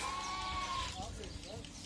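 A single sheep bleats once, clear and wavering, then fades into softer low sounds and faint voices nearby in a mountain village garden.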